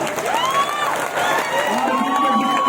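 A large crowd at a rally in Jagdalpur, Chhattisgarh, claps and cheers in a loud, continuous roar, while an amplified voice rises and falls over the noise.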